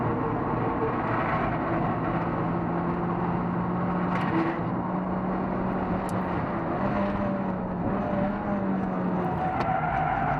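A Formula 3 race car on a track, its engine note holding a sustained drone with shifting pitch as it accelerates, fairly close and continuous with no talk.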